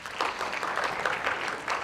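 Students in a session on ESG give a classmate a short round of applause, a soft, even patter of many hands heard fairly close for under two seconds.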